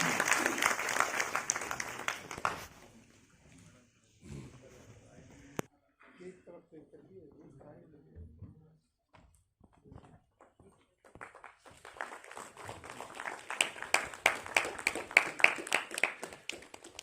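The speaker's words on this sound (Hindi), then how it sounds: "आप लोग जोरदार तालियों के साथ आदरणीय मंत्री जी का स्वागत करें।" Enthusiastic audience applause welcoming a minister at a cooperative movement's foundation day event in Lucknow, a burst of clapping that fades, a stretch of talk over a public address system, then louder, sustained clapping swells again.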